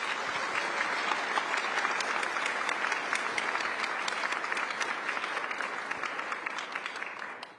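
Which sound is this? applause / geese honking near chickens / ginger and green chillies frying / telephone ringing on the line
applause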